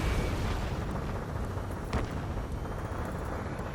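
Dense, rumbling battle noise from the video game Ace Combat 7: Skies Unknown, with booming blasts and a steady roar of gunfire, one sharper burst standing out midway, loud and continuous with no talking.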